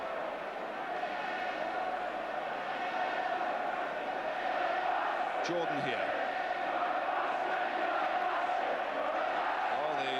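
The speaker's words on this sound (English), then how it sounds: "Cries of the Ipswich crowd much stronger than the Manchester United contingent" Ipswich Town football crowd in a match against Manchester United, a broad roar of cries and chants filling the stadium throughout, with a commentator talking over it.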